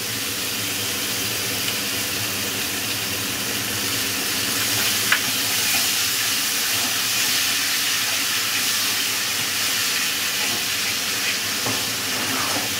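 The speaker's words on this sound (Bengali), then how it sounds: "আমি মিডিয়াম ফ্লেমে দিয়ে মশলাটা কষতে থাকবো" Spiced masala with water and tomato puree frying in a pan over a medium flame for a Bengali hotel-style fish curry, a steady hiss and crackle that carries evenly throughout with one small clink midway.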